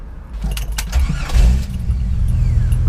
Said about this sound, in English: Start it back up real quick.